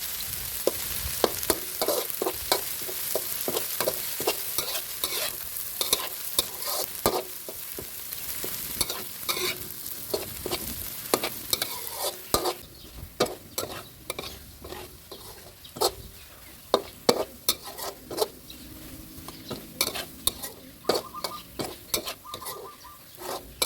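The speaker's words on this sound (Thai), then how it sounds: "นำกระเทียมพริกไทยที่เราตำรวมกันเมื่อสักครู่ลงไปเจียวให้เหลืองหอมนะครับ" Pounded garlic and black pepper fry in vegetable oil in a pan, a steady close sizzle broken by frequent sharp scraping stirs and spatula clicks, continuing throughout with no talking.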